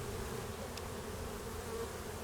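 Honeybees swarm thickly around an opened winter hive, their close, even hum filling the air with a faint brief click in the middle.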